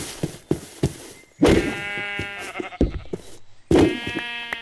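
Sheep bleat in Minecraft: several wavering, nasal bleats come close and loud, with short thumps and clicks in the gaps.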